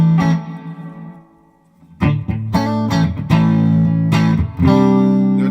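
Electric guitar played through an MXR M300 reverb pedal on its plate setting: a held chord rings out and decays into a lush tail, then a run of bright picked chords follows, each blooming with spacious reverb.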